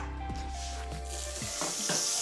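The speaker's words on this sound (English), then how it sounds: "Get that butter in there, nice sizzle." Butter sizzles steadily in a frying pan over a little olive oil on medium heat, a close, even crackling hiss that swells briefly toward the end.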